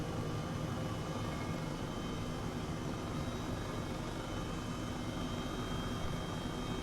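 Simulated H135 helicopter turbine and rotor in Microsoft Flight Simulator, flying near Wick toward the Beatrice Wind Farm, a steady loud drone with constant tonal whine, no talk.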